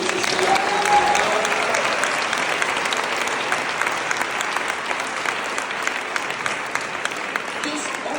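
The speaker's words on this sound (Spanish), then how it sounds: "Dele un fuerte aplauso al Señor." A church congregation at a Catholic Charismatic Renewal assembly gives sustained applause, a dense, steady wash of clapping from many hands that carries evenly throughout, with faint voices mixed in.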